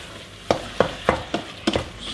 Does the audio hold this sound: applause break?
no